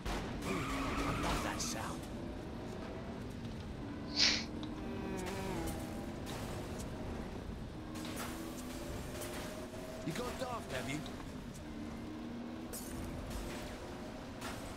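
A car in the video game Saints Row The Third drives with a steady engine drone and a sharp tire skid, with voices talking over the game sound.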